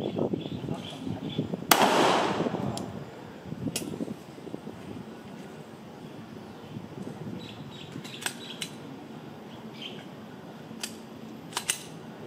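Gunshots at a Thai narcotics officers' shooting drill under stress, fired two-handed at targets: several sharp, distant-sounding cracks spaced irregularly over a low background rumble.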